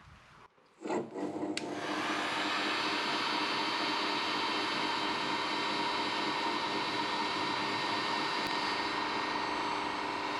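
Heat gun on its high setting switching on with a click and a short ramp, then a steady loud rushing whir of fan and hot air that holds without a break, close by.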